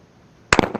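A Fabarm Axis RS 12 trap combo shotgun fires a single shot at trap targets, a sharp, loud crack that dies away quickly in a short echo after a quiet lead-in.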